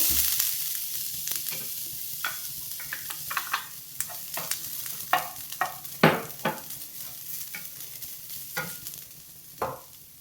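Half a cup of grated coconut is stirred in a pan on the stove: irregular scraping strokes of the spoon against the pan, some sharp and close, over a faint low sizzle, with no voices.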